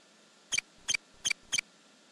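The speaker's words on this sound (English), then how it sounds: "Mouse." A mouse gives four short, high squeaks, evenly spaced and clear against near silence.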